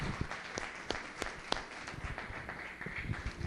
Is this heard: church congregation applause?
yes